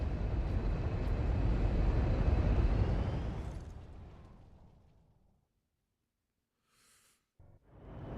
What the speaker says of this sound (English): Valkyrie on approach.